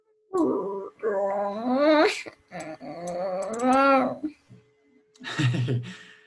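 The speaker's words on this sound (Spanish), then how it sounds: "Que mi perrito está ladrando, profe." A small pet dog vocalizes at close range in a home during an online class, a run of whining, yelping cries in several bursts with short pauses between them.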